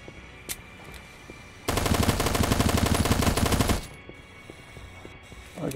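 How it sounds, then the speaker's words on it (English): Rapid automatic gunfire in the zombie survival video game Clownfield 2042, a loud sustained burst lasting about two seconds, with a few single clicks and shots before and after. "I guess I'm gonna finish using this gun"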